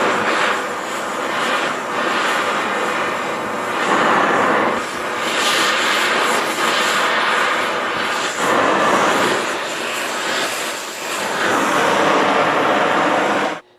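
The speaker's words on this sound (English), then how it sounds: "I'm going to heat up this nut and bolt here just to show you how quickly it is." A Victor Firepower 350 Series oxy-acetylene torch heats a nut and bolt with a loud, steady roaring hiss that holds for about fourteen seconds, surging slightly at times, before cutting off abruptly at the end. No one speaks.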